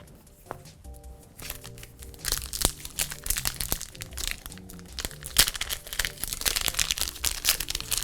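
Crinkly plastic wrapper being torn and pulled open on a Limited Run Games collectible card pack, with close, irregular crackling bursts that grow busier toward the end.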